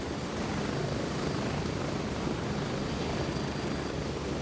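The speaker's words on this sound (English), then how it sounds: "there's a helicopter right up here." A helicopter flies nearby in the military extraction shooter game Gray Zone Warfare, a loud continuous rotor and engine roar holding steady throughout with no break.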